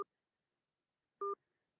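Two telephone keypad tones sound while a voicemail password is being entered, a very short beep at the start and a second clean beep about a second later, each alone against silence.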